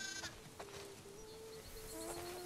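Sheep in The Last of Us Part II bleat several times in a game farm setting, short wavering calls rising over a steady ambient bed with a faint musical tone underneath; no one speaks.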